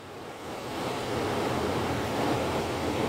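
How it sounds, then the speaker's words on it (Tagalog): Gusty wind from a typhoon under signal no. 10 in Macau, a broad continuous rushing roar that builds over the first second and then stays loud and steady. "So yung hangin, pabugso-bugso lang."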